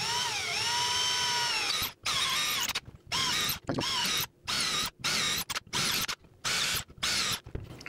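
A power drill bores a series of holes through a slip-cast plaster piece, whining up to speed, then running in repeated loud bursts separated by short silences as each hole is drilled.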